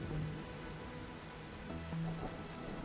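Soft, steady patter of rain in the Dwarf Things video game, a quiet continuous hiss with faint tonal game sounds layered on top.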